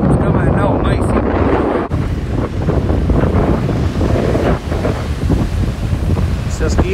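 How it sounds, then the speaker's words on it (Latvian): Strong wind at sea off the Latvian coast buffets the microphone in a constant roar, with surging waves and a brief lull partway through. "Vējš nav mazinājies."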